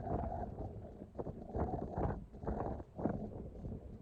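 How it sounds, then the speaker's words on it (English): Wind gusting outdoors beside a pond while fishing rumbles low and uneven against the microphone, rising and falling in soft, muffled surges at a fairly quiet level. "the wind is blowing pretty good. I'm sure y'all can hear it very well too"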